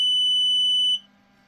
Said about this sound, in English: we had beeping on the other side.